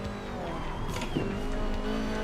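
A BMW E30 fitted with an F30 steering wheel drives along with steady engine and road noise, a continuous moderately loud cabin hum with a brief bump partway through.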